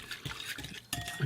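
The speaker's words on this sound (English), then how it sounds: "You're just stirring up the sugar with the yeast and get them brewing, literally." A whisk stirring sugar and rapid-rise yeast into water in a bowl for monkey bread dough, giving soft, quiet swishing and light clinks over about a second.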